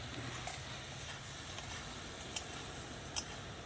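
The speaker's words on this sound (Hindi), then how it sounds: "तो ये डाल देते हैं और थोड़ी सी इसकी भुनाई करेंगे" Green chilies frying with lamb in a karahi give off a steady, soft sizzle, with a couple of faint clicks from a utensil against the pan and no voices.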